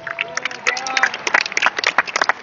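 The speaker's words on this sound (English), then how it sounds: "Big round of applause for Dr. Adams." Dense, continuous clapping from a banquet audience at a fellowship dinner gala, loud and steady throughout with a few whoops mixed in.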